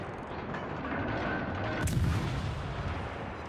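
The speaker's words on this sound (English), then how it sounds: "it's not going to hurt to give a few shots at her" Warship guns fire in World of Warships as a Z23 destroyer engages the last enemy ship, a deep rumbling boom over a steady low roar of battle, with no talking.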